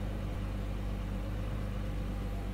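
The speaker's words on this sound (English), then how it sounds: "Okay, it's idling down now." Dodge Charger engine idling with a slightly unsteady, bouncing rpm, a steady low rumble filling the recording close by with no talking.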